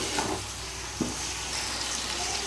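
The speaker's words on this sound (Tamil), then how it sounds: "இப்போ தக்காளியை போட்டுற வேண்டியது தான் போட்டு அப்படியே வதக்க வேண்டியது தான்" Tomatoes sautéing with ginger and garlic in a pan for a homemade duck and mutton curry, giving a steady low sizzle with a single soft stir or clink partway through, close and alone.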